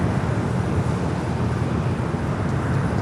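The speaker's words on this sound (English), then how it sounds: "Got that Frontier A320 Neo now heading down the 25 at right." A Frontier Airbus A320neo jet airliner rolls down the runway at LAX, a loud, steady broadband roar with deep rumble, continuous and unbroken for a few seconds.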